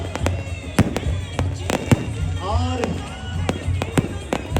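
Fireworks at a Dussehra celebration crackle and pop in sharp, irregular bursts over a rumbling crowd backdrop, with a voice speaking briefly in between.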